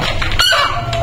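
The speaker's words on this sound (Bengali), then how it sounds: "আমাদের মোরগ" Backyard rooster and hens clucking close by, a short burst of fowl calls over rustling noise, with a brief higher squawk partway through.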